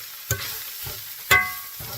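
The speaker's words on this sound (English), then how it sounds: "I'm going to turn off the heat and keep on stirring it up a little." Browned ground meat stirred in a cast iron skillet after the heat is turned off, giving a soft sizzle with two distinct scraping clanks of the utensil against the pan, close and clear, with no talking.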